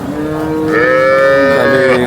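A cow at the Sangola cattle market gives one loud, drawn-out moo close by, lasting about two seconds and rising in the middle.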